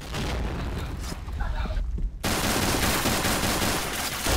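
Rapid automatic gunfire in a video game, loud dense bursts that drop briefly before a sustained volley resumes, with voices talking over the shooting.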